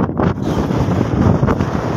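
Steady wind blowing outdoors near a muddy fishing village shore at Sonagazi, Feni, a continuous broadband rush buffeting close to the microphone with slight gusting swells, no voices.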